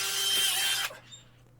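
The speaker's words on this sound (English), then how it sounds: "I'm going to drill some holes right now" A power drill bores pilot holes at a side door for a doorbell mounting bracket, a single loud whirring burst that stops abruptly near the end, followed by quiet.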